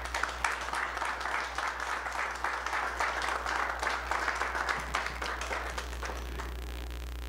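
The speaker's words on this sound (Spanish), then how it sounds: "Un aplauso hasta para él." Audience applause fills a hall at a science award ceremony, steady continuous clapping from a crowd under a constant low electrical hum, slowly thinning toward the end.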